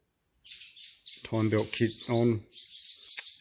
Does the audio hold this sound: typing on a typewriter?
no